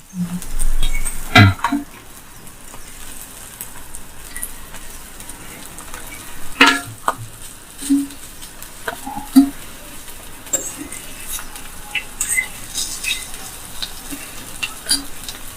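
Fish frying in a pan, a soft continuous sizzle with occasional clinks and scrapes of a utensil against the pan and plate, close up with no voices.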